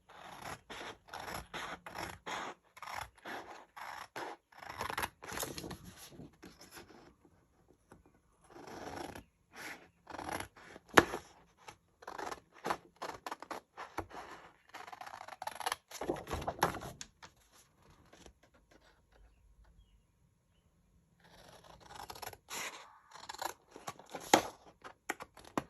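Scissors cut a 4x4 inch paper square for a scrapbook page, with close, dry snipping and scratchy scraping in irregular bursts and a few quiet pauses, no talking.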